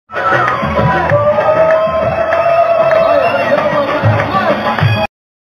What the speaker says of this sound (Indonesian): Sekali lagi boleh kita berikan tepuk tangan yang meriah.